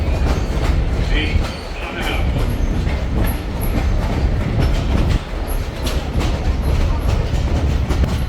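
A train rumbles past nearby in the Blue Ridge mountains with rattling wagons and occasional metallic squeals, a continuous clattering roar throughout.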